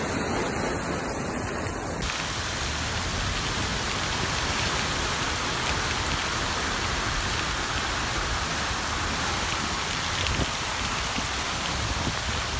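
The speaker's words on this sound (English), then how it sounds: "one storm cell after another moves across the same path like train cars, dumping immense rainfall over a narrow corridor for hours" Heavy rain pours from stalled thunderstorms during flash flooding in Montgomery County near Washington, D.C., a dense, unbroken roar of downpour that stays loud and steady throughout.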